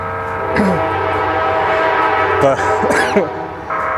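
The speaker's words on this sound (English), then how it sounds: "This is the third train that's come by already." A loud, steady rumble of a passing train fills the whole stretch, with sharp clanking and squealing bursts rising over it near the middle.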